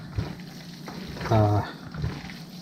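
A spoon works through a wet Thanksgiving dressing mixture moistened with chicken stock, giving squelching, slopping stirs in a few uneven strokes with one louder swirl in the middle, close up.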